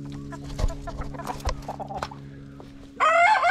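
Chickens in a solar-powered coop, close clucks and short calls scattered over a steady low electrical hum, ending in a loud sustained squawk or crow.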